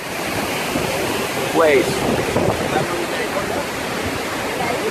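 A waterfall in Bali, fed by a lake, roars as a steady broadband wash of falling water. A person speaks briefly over it.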